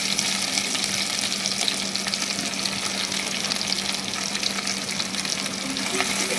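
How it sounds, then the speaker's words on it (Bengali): Onions frying in a pan for spicy chicken mince, a loud steady sizzle crackling close up throughout with occasional stirring. "পেঁয়াজ ভাজা হয়ে গিয়েছে"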